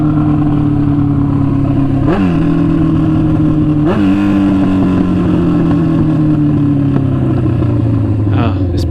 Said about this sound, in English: got a loud bike coming